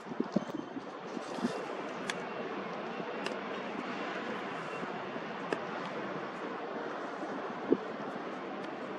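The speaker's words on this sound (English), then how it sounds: "The wind doesn't stop." Steady wind buffets an outdoor microphone at night in Gibraltar, a constant close rushing roar with occasional faint clicks and bumps as someone handles the gear.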